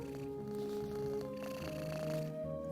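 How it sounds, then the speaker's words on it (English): A steady, low cat purr rumbles continuously at close range, soft and even throughout with no voices. "If you get really close, you can hear her purr."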